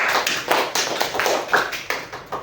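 A small group claps in short uneven bursts, a handful of hands close by, brief and fairly light.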